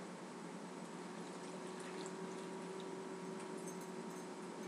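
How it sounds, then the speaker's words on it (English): Water pours steadily into a saucepan of apples and spices for homemade applesauce, a continuous even rush with no talk over it. "then you're going to add in your 2/3 cup of water"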